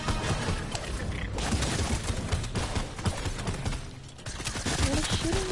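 Dense, continuous gunfire in an online shooting video game, rapid overlapping shots and bursts that stay loud and busy throughout with little letup.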